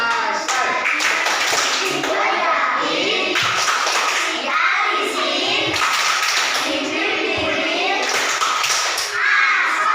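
Children clapping the Tepuk Asoy rhythm game in a classroom: loud, close, patterned bursts of claps in repeating phrases, with the children chanting along between and over the claps.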